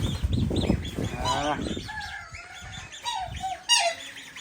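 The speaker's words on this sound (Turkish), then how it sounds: "Ördeğimizi tuttuk dişi." Female duck squawking and honking after being released by a stream, several loud calls near the start followed by fainter squawks, with someone talking at times.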